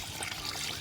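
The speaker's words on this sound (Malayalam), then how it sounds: "അപ്പോൾ ഇതൊന്ന് ഇളക്കി കൊടുത്തിട്ട് നമുക്ക് ആ വെള്ളം ഇങ്ങോട്ട് ഒഴിച്ച് കൊടുക്കണം." Water poured over a young curry leaf plant in a garden, a continuous soft splashing trickle heard up close for just under a second with no voices.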